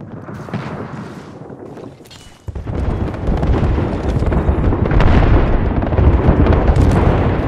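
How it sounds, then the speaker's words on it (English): Video game airstrike: a sharp blast hits midway and gives way to a sustained, heavy rumble of overlapping explosions that stays loud to the end. "Heads up, we've got an airstrike coming in"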